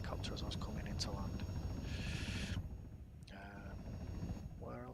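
A helicopter during flight practice gives a steady low rotor and engine rumble throughout, with a voice talking over it at times.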